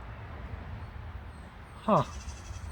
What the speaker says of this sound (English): My cat just chased my goat.